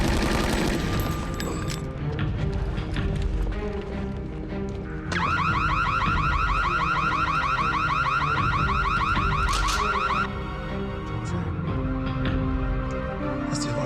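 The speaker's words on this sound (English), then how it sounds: "That's the alarm for the vault." An electronic vault alarm rings with a steady, rapidly pulsing high tone that starts sharply and holds for several seconds. Loud rumbling, bursts and mechanical clatter from a tense film scene play underneath.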